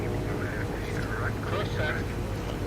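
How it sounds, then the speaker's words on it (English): Boeing 747-200 jet on its takeoff roll, a steady loud engine roar with a constant low rumble throughout, heard from inside the aircraft. "45 seconds is our takeoff run."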